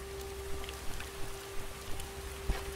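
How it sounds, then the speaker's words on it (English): Steady rain falls in the game Starbound, a soft continuous patter with a few scattered drop taps, fairly faint and without voices. "Because it's raining outside"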